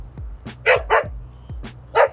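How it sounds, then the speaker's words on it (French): Dogs in a fight on a New York street, several sharp barks and yelps coming in quick bursts over about two seconds, close and loud. "Bataille de chiens."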